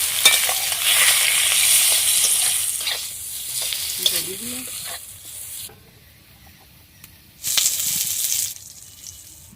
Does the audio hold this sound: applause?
no